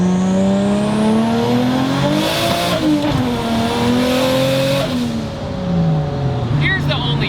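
A 1JZ-swapped drift car with a hydraulic handbrake revs hard, engine pitch climbing and dropping as it slides, loud and close throughout, with a light tire squeal near the end and a voice talking over it.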